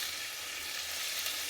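Chunks of beef fry in hot sunflower oil for a stew, giving a steady, even sizzle and crackle that stays constant throughout, close and alone with no talk.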